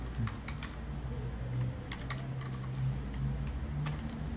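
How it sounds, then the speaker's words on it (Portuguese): Quick, light keystrokes on a computer keyboard as code is typed, coming in short irregular bursts of clicks that are close and soft over a low, steady hum. "a gente começa digitando o def"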